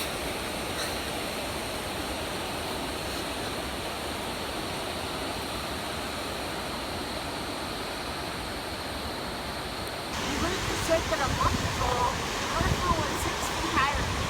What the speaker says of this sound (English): The raging water down there is Bub's Creek.